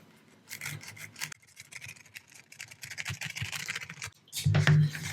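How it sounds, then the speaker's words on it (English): An X-Acto knife slices a slit through a foam pool noodle, giving a series of close, rasping, scratchy cuts in quick bursts with brief pauses between strokes. "cut a slit in this pool noodle across this direction, which is really easy to do with our X-Acto knife"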